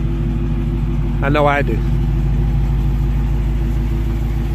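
A 2019 Dodge Challenger R/T with a Hemi V8 idles with a deep, steady, close rumble, and a voice speaks briefly over the engine.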